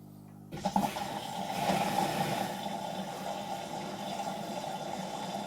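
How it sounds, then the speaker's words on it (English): Water rushes into an EBAC unit after a sudden start, a steady gushing fill that settles into a continuous flowing hiss, close and moderately loud. "let's see if the EBAC actually fills with water"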